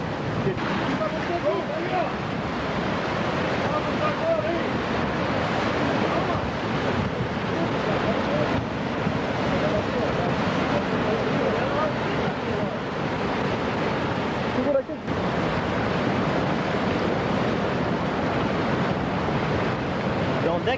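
Floodwater rushing in a steady, loud roar through a town in Vidal Ramos, Brazil, broad and continuous for the whole stretch with a brief dip near the end, washing over faint voices in the background.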